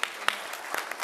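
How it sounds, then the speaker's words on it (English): Audience applause in a commission meeting room after a congratulation to Taiwan, a short burst of steady clapping with a few sharper claps standing out, moderately loud and alone. "If we can give them a round of applause, please."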